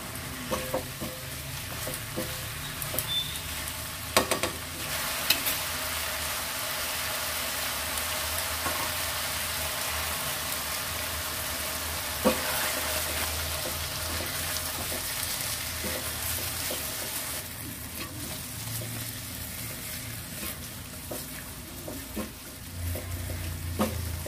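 Curry in a pan after sour yogurt is added, stirred while it fries: a long even sizzle with occasional spoon knocks and scrapes against the pan, close and steady, no voices.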